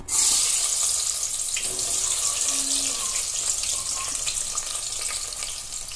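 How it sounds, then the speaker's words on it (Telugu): Onion pieces hit hot oil in a clay pot, bursting into a loud, steady hiss and sizzle that settles slightly while staying close and continuous. "ఆయిల్ బాగా హీట్ ఎక్కింది ఇప్పుడు ఉల్లిగడ్డ ముక్కలు వేసుకుందాం"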